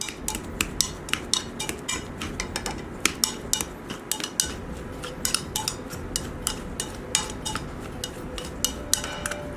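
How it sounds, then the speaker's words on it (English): Boiled potatoes being mashed in a hot pot, a steady run of rhythmic clinking metal knocks and scrapes against the pot, close and fairly loud, with no talking. "we're now going to mash the potatoes"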